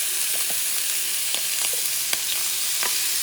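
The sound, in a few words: scallops frying in extra virgin olive oil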